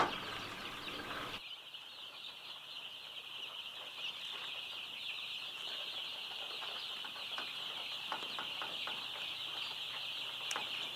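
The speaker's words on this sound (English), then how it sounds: "we have our broiler chicks." A thousand broiler chicks crowd a skid house on a poultry farm, their dense high peeping forming a continuous chirping chorus, with a few sharper cheeps and faint rustling standing out now and then, and no voices.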